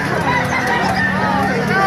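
Many chickens clucking and squawking at once in a busy, crowded market in Bocaue, with a steady hubbub of voices and noise mixed in.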